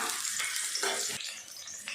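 Steady loud sizzling and crackling of chopped small onions frying in hot oil, close by, with no talking.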